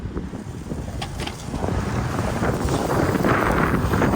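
Strong night wind roars across the microphone outdoors on a cattle farm, a continuous gusty rumble that builds louder and steadier over a few seconds.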